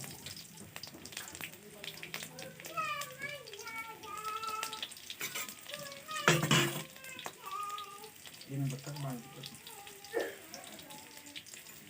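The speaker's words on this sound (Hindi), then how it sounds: "तो 8 से 10 लहसुन की कलियों को भूरा होने तक तलिए।" Garlic cloves, eight to ten of them, frying in oil in a kadhai until brown. A soft, steady sizzle runs under nearby talking, with a few clinks and stirring noises.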